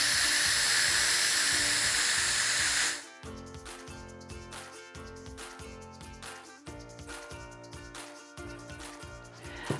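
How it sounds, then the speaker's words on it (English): An Instant Pot vents a quick steam release while making Tuscan sausage soup, a loud, close, continuous hiss that cuts off abruptly after about three seconds, leaving only quieter background sounds. "I'm gonna carefully release that steam, do a quick release."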